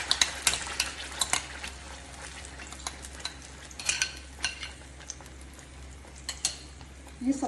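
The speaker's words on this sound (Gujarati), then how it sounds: "તમે જોઈ શકો છો કે હું હલાવું છું." Raw mango halwa is stirred as it fries in a pan, with repeated scraping strokes of a spoon over a soft sizzle, close and fairly loud, no voices.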